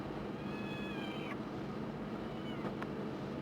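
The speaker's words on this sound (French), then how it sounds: "Tiens, mon minou." A cat gives one drawn-out, high meow over a steady wash of loud background noise, then falls quiet.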